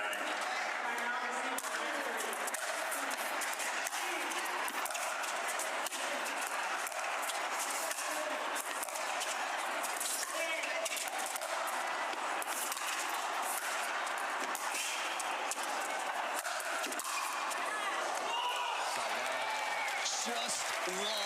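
Crowd at a pickleball match at the indoor national championship reacting with oohs, aahs and applause, a steady dense wash of many voices and clapping throughout, with a commentator talking over it.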